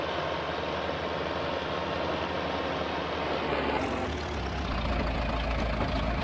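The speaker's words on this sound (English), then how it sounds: "let's get this tractor out of the way" A tractor engine in a farming video game runs steadily with a low heavy drone, idling and then revving slightly partway through, continuous and fairly loud with no talk.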